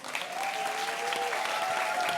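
A stadium crowd in Budapest roars and applauds steadily for a pole vaulter, dense continuous cheering filling the space, with a faint whistle-like tone sustained above it.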